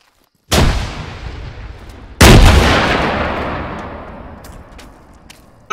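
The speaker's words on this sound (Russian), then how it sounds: "Это осколочная граната" Fragmentation shells from self-propelled artillery burst nearby in a tank video game: two loud, sharp blasts a couple of seconds apart, each with a long fading rumble, then a third blast begins right at the end.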